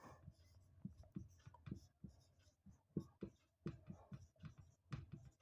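Chalk or marker writing out the perimeter formula of a square during a Hindi-language mensuration maths lesson, heard as a run of short, close scratchy strokes in an irregular tapping rhythm.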